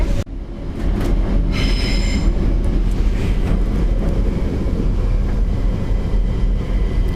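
A Stockholm metro train runs at speed with a loud, continuous rumble of wheels on rails, brief high squeals and rattling carriage noise close by.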